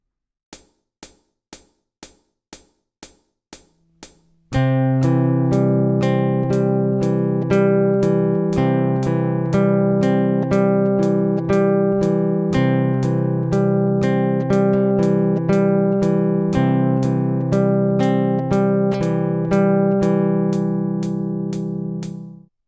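A metronome ticks alone, then a fingerpicked guitar pattern with a pinch on the C plays in a steady, repeating rhythm over the continuing clicks before fading out.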